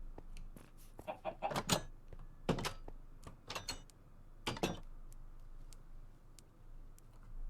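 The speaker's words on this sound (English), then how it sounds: "Oh, a chicken got out." Chickens cluck in a video game, a run of sharp, clipped clucks and flaps bunched in bursts over a quiet background, fairly close and with no talking.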